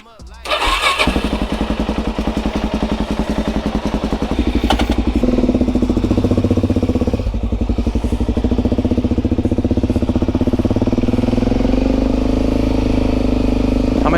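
A jump-started Suzuki DRZ400SM motorcycle with a freshly rebuilt top end cranks, fires and settles into a loud, close, steady thumping idle that holds on without a pause.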